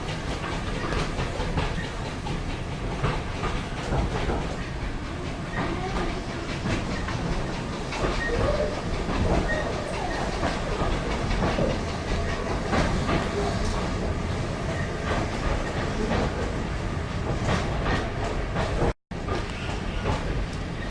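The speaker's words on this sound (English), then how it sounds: "Our next stop is Didcot Road, where this train terminates." Great Western Railway train running along the tracks toward Didcot, a continuous loud rumble and rattle with rhythmic clicks and a hiss, heard from on board.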